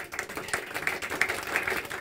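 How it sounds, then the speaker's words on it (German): A studio audience at a celebrity talk show in Dinslaken gives moderate, continuous applause, with no talking. "Großen Applaus."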